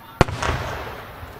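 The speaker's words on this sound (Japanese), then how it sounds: "綺麗ですよね、この花火も。" A single large firework shell bursts with a sharp, loud boom, then a low rumbling echo trails off at an outdoor creative fireworks display at the 2019 Isehara art fireworks festival, which used size 5 shells.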